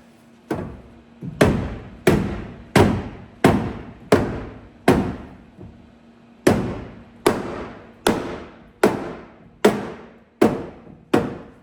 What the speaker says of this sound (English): So, rubber mallet time. So up behind the panel, don't worry about bending this lip